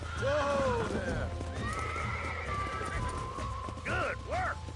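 Several horse whinnies ring out in Red Dead Redemption, with hooves clopping along beneath, two sharp neighs close together near the end, all over steady game ambience and a voice talking.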